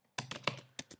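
Crisp, close clicks of typing on a computer keyboard while writing Python code, five or six quick keystrokes in an uneven burst with clear pauses between, no talking.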